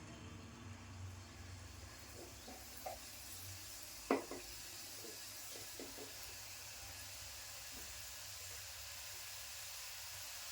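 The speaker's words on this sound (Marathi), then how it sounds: "तेल तापल्यावर आपण हे आता तळून घ्यायच्या" Khaja dough sticks frying in hot oil give a faint, steady sizzle and hiss, broken by a few soft clicks and one sharper pop near the middle, with no voices.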